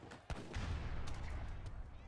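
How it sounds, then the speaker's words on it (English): A heavy cannon volley in Age of Empires III, with a sharp opening blast followed by a dense rolling rumble of battle and scattered distant impacts, fairly faint beneath commentators talking. "do you see that heavy cannon volley? They're hitting, man."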